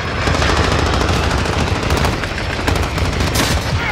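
Sustained rapid gunfire from a VTOL killstreak aircraft in a Call of Duty match on the Shipment map, loud and dense, with continuous bursts for the whole stretch and no talking.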